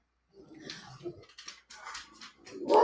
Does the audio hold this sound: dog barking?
yes